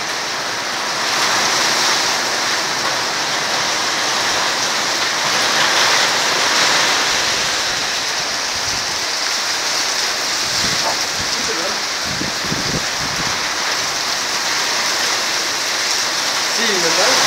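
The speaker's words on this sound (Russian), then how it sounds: "Очень сильный дождь." Very heavy rain shower pouring down in Kharkiv, a dense, steady roar of water on surfaces lasting throughout, loud and close, with a few faint voices in the background.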